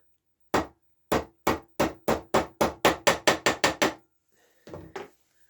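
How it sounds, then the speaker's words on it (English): A hammer taps a part into place on a model bogie underside: one sharp knock, then a quick run of about a dozen evenly spaced, crisp taps, followed by a softer rattle. "Give it a tap."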